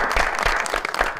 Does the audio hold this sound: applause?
yes